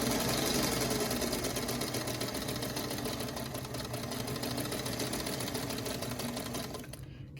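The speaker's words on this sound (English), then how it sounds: "I'm just going to start sewing" A sewing machine stitches quilt block fabric pieces together, a loud continuous rapid hum and needle clatter running steadily throughout before slowing and stopping at the very end.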